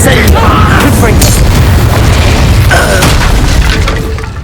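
A loud, booming fiery blast from the Confringo spell in Hogwarts Legacy, with a crackling burst and debris, followed by a second impact and a shouted voice over dense battle noise.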